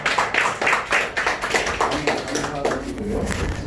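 Applause from board members at a quarterly meeting, a burst of rhythmic hand clapping that starts strong and thins out over a few seconds, with voices murmuring underneath.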